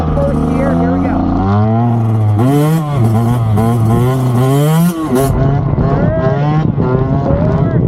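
Dirt bike pulling away hard in first gear, a loud close engine climbing steeply in pitch and revving up, briefly dropping and surging again as it accelerates.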